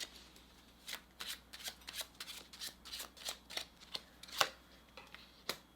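Oracle playing cards shuffled by hand close up, a quiet string of quick riffling bursts and crisp snaps in an irregular rhythm, with nothing else heard.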